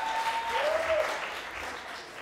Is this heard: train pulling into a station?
no